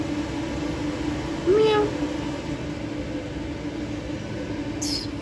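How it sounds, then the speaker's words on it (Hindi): A cat gives one short meow against a steady low background hum, with a faint squeak a few seconds later. "इतने प्यारे प्यारे बिल्ली हैं"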